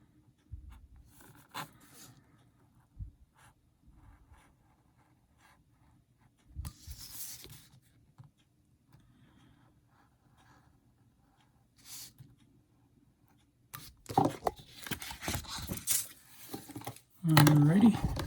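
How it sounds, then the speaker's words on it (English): Scissors snip and rub through the clear plastic Tamiya Fat Fox buggy body in scattered close bursts between quiet gaps, growing denser and louder toward the end, with faint speech in places. "I'm just going to rough cut this and then use scissors to get to the final shape."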